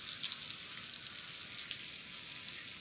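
Steaks searing in a pan, giving a steady, dense sizzle and crackle with fine spitting pops throughout, close and even in level, with no talking.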